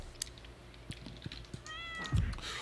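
A cat meows in the video game Stardew Valley, a short chirpy call around the two-second mark over soft keyboard clicks and game background sounds; no one speaks.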